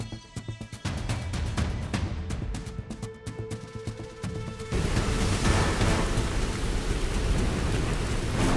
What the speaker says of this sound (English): Clouds blast through the sky in a stunning display of nature's raw power as storm fronts collide